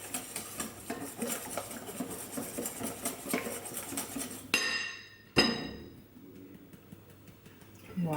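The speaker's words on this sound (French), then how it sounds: "il faut incorporer sa farine. On mélange bien" A spoon or whisk scrapes and clinks steadily against a bowl while flour is stirred into batter, a close rhythmic tapping that stops abruptly, followed by a sharp clack and quieter rattles.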